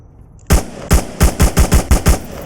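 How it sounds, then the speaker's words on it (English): Gunfire from the Onward VR game rings out in a rapid volley of about eight loud, sharp shots in quick succession, following a short quiet start. "I'm pretending I'm shooting out of a window."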